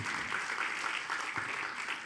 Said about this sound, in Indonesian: yang mau berikan tepuk tangan buat Tuhan